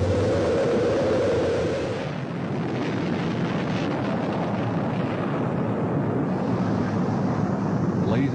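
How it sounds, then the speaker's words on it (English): Rocket main engines igniting at launch, a broad roaring rumble that swells in after a tonal opening and holds steady and loud, dense low-end noise like an eruption with no voices over it. "We have main engine start."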